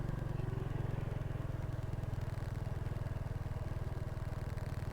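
A Honda Wave RSX motorcycle running on a rough road, its small single-cylinder engine putting out a steady, fast, low throb close to the microphone, with no voices.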